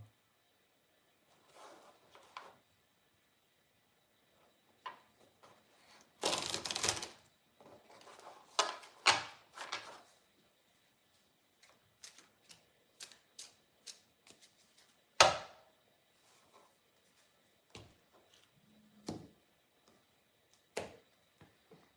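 Tarot cards are shuffled in quiet, sporadic bursts of soft riffling and light taps, with one fuller shuffle in the middle and isolated clicks scattered through an otherwise silent room.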